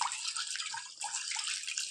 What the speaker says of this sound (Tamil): இது போல் நல்லா தண்ணியை விட்டு நல்லா களைஞ்சி எடுத்துடணும்